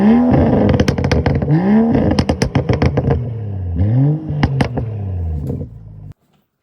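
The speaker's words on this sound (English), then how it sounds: "this is the perfect budget exhaust for the N55" BMW 335i with the N55 engine and a Turner Motorsport muffler delete exhaust, plus stock downpipe and resonator delete, revved repeatedly: loud close rising blips with popping crackle on each lift-off, then idle before cutting to silence.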